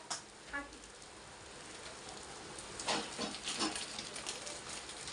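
Rain falls outside at night, a soft, steady hiss that stays fairly faint throughout, with a few brief louder bursts and muffled voices near the middle.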